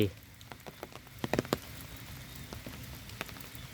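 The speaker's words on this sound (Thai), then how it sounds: "วันนี้เนื่องจากฝนตกนะครับ ดูดูฝนเข้ามาแล้วนะฮะ" Rain falling on a tree-shaded canal bank in Prachin Buri, Thailand, a faint steady patter with scattered sharper drops and a few close taps, no talk.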